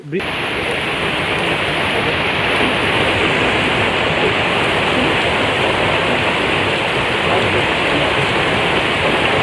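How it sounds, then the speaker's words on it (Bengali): Heavy rain pours down on a Bede boat camp in a village in Sripur, Gazipur, making a loud, dense, unbroken roar that holds steady from start to finish. "বৃষ্টি আসছে প্রচুর পরিমাণে"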